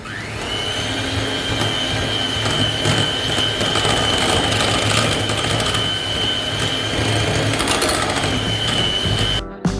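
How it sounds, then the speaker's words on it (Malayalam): An electric mixer whirs steadily and loudly, beating egg yolk with mascarpone cheese for an Italian tiramisu, a continuous motor drone with a high steady whine, ending abruptly near the close. "ഇട്ട് കൊടുത്ത് നല്ലതുപോലെ ബീറ്റ് ചെയ്തെടുക്കുക."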